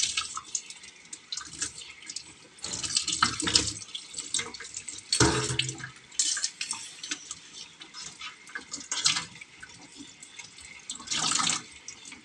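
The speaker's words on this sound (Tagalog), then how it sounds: "Hugasan lang natin ng maigi yung karne." Tap water runs into a kitchen sink while raw meat is rinsed by hand, with bursts of splashing and trickling that stop and start irregularly, close-up with quieter drips between the washes.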